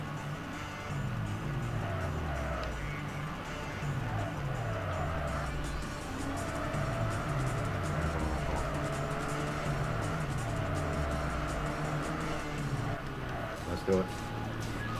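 Race cars in the TXR ZERO video game, a steady engine drone with repeated rising and falling revs as gears shift, tire noise underneath, and someone talking over it.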